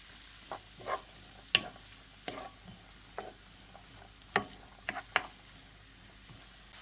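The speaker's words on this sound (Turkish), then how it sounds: "İçerisine doğradığımız soğanları ilave edip kavuralım." Quiet sizzling of onions frying in oil in a pan under intermittent scraping and stirring of a utensil, with irregular knocks against the cookware.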